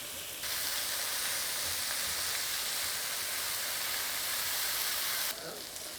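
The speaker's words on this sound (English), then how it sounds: "We're just adding the cauliflower in there. We just want it to roast and get some nice, beautiful marks onto it." Cauliflower roasting in a pan on high heat, a loud, steady hiss of sizzling that starts abruptly, holds evenly for about five seconds, then cuts back to a quieter background.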